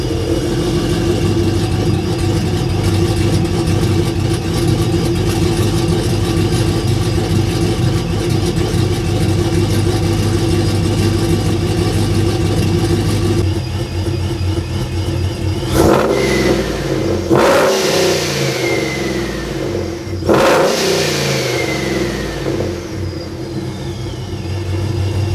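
A car engine idles with a steady rumble, then revs sharply twice with its electric exhaust cutout closed, each burst rising and falling back, loud and close.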